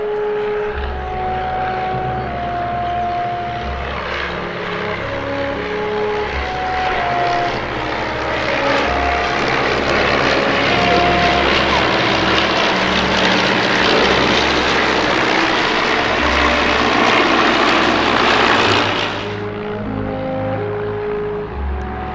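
A de Havilland Mosquito's piston engine runs loud and close, a deep propeller drone that swells into a roaring full-power surge before cutting back to a lower throb near the end.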